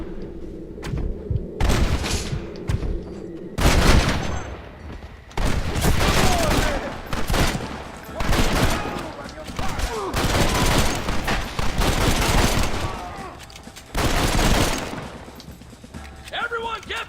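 Bursts of gunfire ring out through a Red Dead Redemption shootout, with loud volleys of shots breaking out in several clusters over about seventeen seconds, mixed with shouted voices between the shots.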